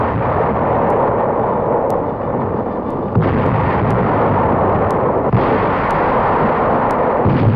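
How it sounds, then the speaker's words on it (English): A naval artillery barrage during the 1944 landings in France on a newsreel soundtrack, a dense, continuous roar of loud booms and blasts with periodic heavier thuds, crackly and close. "Landings are made under a naval barrage."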